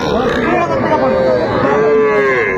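A long, loud, drawn-out moo rises and falls close by over a noisy, crowded cattle market in Mymensingh, Bangladesh.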